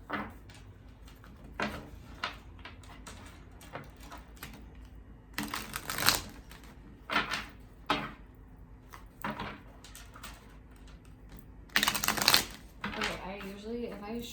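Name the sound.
shuffling cards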